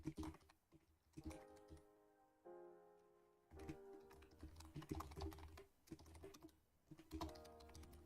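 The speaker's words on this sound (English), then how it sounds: "My keyboard is probably louder than me at this point." Rapid typing on a computer keyboard during a programming session, dense bursts of clacking keystrokes in quick runs with a brief pause, fairly quiet and close, no talking.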